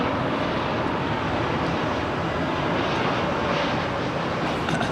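A fixed-wing airliner on runway 27L at London Heathrow Airport sends a broad, steady jet roar that stays loud and unbroken, with no voices over it.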